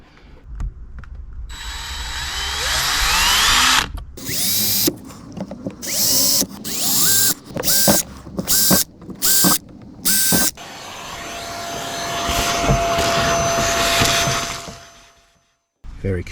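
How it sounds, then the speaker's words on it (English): A power drill drives screws while a Pioneer TS-G17 speaker is fitted into a 2007-2014 Smart Fortwo 451. Loud, close whirring comes in a rapid series of short bursts, followed by a longer steady run. "it's just a case of screwing it in"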